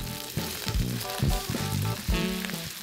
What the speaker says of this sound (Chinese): 炒肉时温度一定要够，这样才能把绞肉炒得又香又酥